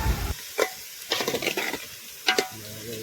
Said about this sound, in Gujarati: તો જો એક તપેલામાં આપણે ડુંગળી અને બટેટા બે ફ્રાય કરવા મૂકેલા છે અને સારી રીતે ગોલ્ડન કરવાના છે